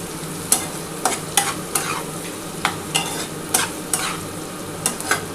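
Mustard and tomato paste fry in a pan for a bata fish curry, a soft constant sizzle punctuated by crisp spatula taps and scrapes against the metal at irregular intervals, close and without speech.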